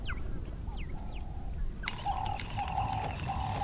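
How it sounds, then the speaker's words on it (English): Doves coo repeatedly at a waterhole in the Kgalagadi, several soft rhythmic calls from nearby birds over a steady low ambient background. "Before long, the area was filled with doves."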